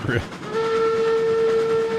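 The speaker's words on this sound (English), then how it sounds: "Yeah, that's definitely a train whistle." A steady, sustained steam train whistle in the railroad video game Railroads Online sounds loud and close. It rises out of a brief rumble and holds one clear tone to the end.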